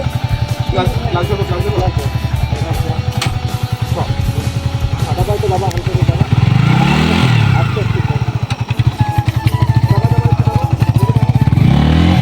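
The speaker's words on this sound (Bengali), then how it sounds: "তো ফাইনালি বাইক স্টার্ট করে দিয়েছি" A motorcycle engine idles and revs nearby with a steady throbbing putter, rising in a couple of throttle swells, while people talk over it.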